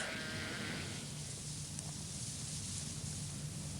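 Sheep in the Yorkshire Dales bleat amid a steady broadband wash of outdoor wind or rushing noise, the bleats faint and partly masked, with no speech.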